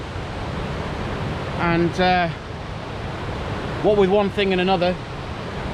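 Waterfalls in a forest on Cadair Idris make a constant broadband rush of falling water, while a voice talks briefly over it twice.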